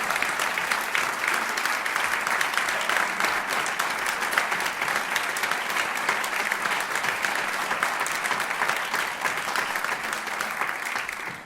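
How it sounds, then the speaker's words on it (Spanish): An audience applauds two actors at a lecture on the Don Juan myth, a dense, even roar of clapping that holds steady for the whole stretch, loud and alone without talk. "Aplauso para ellos."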